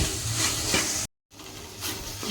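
Okra frying in oil in a pan, a steady hiss and sizzle broken by a brief gap of silence, then continuing at a similar level.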